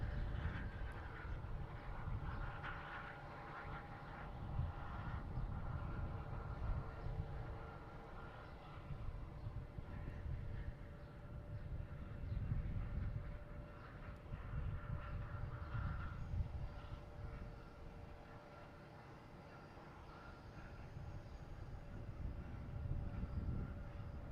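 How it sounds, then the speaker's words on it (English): A Delta airliner takes off at Boston Logan Airport, heard as a steady distant engine roar with a low rumble and a faint tonal whine that holds level throughout, with no talking. "next taking off, we have Delta heading to Montego Bay"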